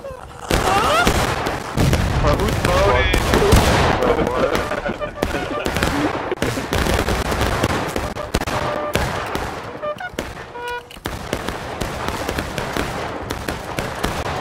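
Black-powder musket volleys and scattered rifle shots in War of Rights, a dense crackling barrage fired on command, loud and close, with voices talking over the gunfire.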